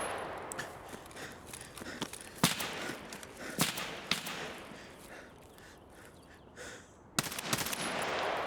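Gunfire from a VPO rifle in a video game, sharp distant cracks spaced irregularly over a hissing ambient bed, with a couple of louder, closer reports near the end.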